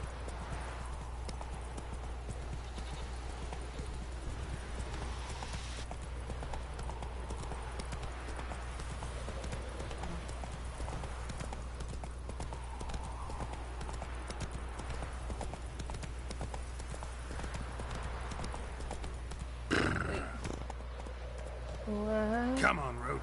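A horse gallops in The Witcher video game, its steady clip-clop hoofbeats running throughout over a constant low hum, with a brief whinny near the end.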